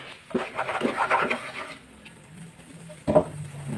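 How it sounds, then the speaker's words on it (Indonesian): Sugar melting in a pan over low heat is stirred steadily, giving soft scraping and faint sizzling at close range, then a brief clatter near the end; no one speaks. "Pokoknya diaduk-aduk terus dan jangan lupa gunakan api kecil aja biar gulanya itu nggak gosong ya teman-teman."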